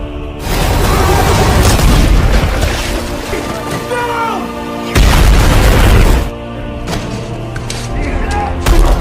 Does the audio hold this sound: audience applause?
no